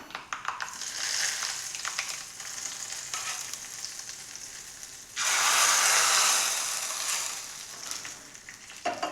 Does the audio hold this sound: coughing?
no